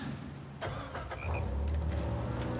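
A boat engine in the Uncharted 4 video game starts up, its low motor rumble swelling after a brief crank and settling into a steady, fairly loud drone.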